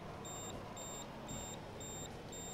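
Steady, regular electronic pips of a low-fuel warning inside a truck in a trucking video game, a bright two-tone beep repeating about every half second over a soft engine drone, with no talk.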